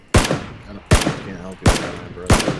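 Four sharp, evenly spaced gunshots ring out in PUBG Battlegrounds, each a loud crack with a short echoing tail.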